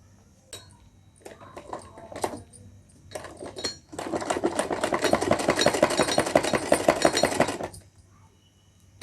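A sewing machine stitching a small doll dress runs in a few short starts, then settles into a long, steady, close whirring burst before stopping.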